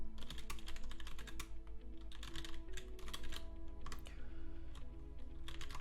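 Rapid typing on a computer keyboard goes on steadily, with bursts of quick key clicks and short pauses, close and clear over a faint low hum.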